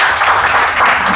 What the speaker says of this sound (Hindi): अरे क्या बात है, क्या जोरदार तालियां।